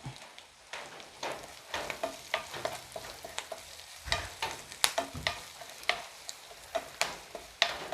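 Crushed garlic and curry leaves frying in hot oil for a chicken curry, a steady sizzle broken by repeated scraping stirs of a spoon against the pan, close and without talk.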